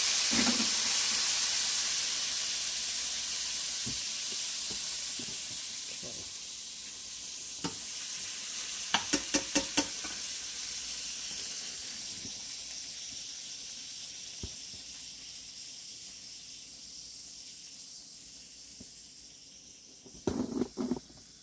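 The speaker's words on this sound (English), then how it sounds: "1 tablespoon of my country crock butter in the skillet." Butter sizzles in a skillet with a steady, close hiss that slowly fades. A few sharp clicks and clatters of utensils break in around the middle and near the end.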